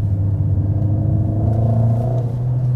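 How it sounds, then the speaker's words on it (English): The exhaust of a 2021 Mercedes-AMG GLA 45 S gives a deep, steady burbling rumble while the car climbs a hill. The low drone stays loud and continuous for a few seconds with no talk over it. "Also some blubbering sound from the exhaust."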